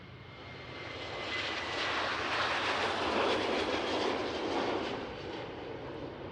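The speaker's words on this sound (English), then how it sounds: "KLM 737. Speeding up here at the Polderbaan." A KLM Boeing 737-700 speeds up on the Polderbaan runway at Schiphol for takeoff, its engines a broad, distant roar that swells and then slowly fades.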